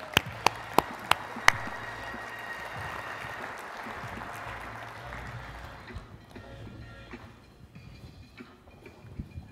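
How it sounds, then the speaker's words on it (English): An audience applauds to welcome a guest onto the stage at a live ECM show, a dense wash of clapping after a few sharp claps that gradually thins and fades toward the end. "Round of applause."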